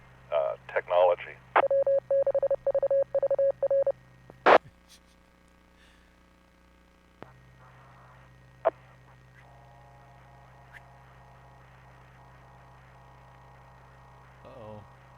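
Interference from a radio jammer cuts into an amateur radio net. Rapid bursts of warbling tones pulse over a steady hum, followed by sharp clicks, scattered pops and a faint wavering tone near the end.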